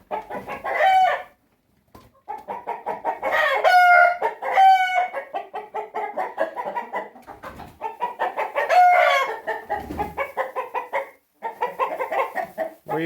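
Roosters in a chicken coop crow and cluck close by, a string of choppy repeated calls with a few drawn-out crows, loud and steady with short pauses between bursts.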